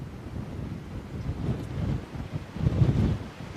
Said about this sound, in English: Big wind gust, here we go.